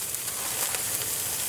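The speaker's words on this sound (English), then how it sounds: "Hear that sizzle?" Burger patties sizzle in oil in a Lodge cast iron pizza pan, a loud close crackling hiss that stays constant, with no one talking.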